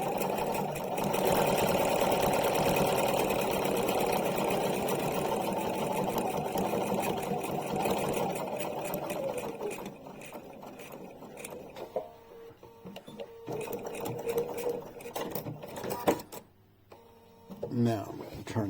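A sewing machine stitching a satin stitch runs in a steady, continuous mechanical whir for the first half, then gives way to quieter intermittent clicks and handling noises as the fabric is turned.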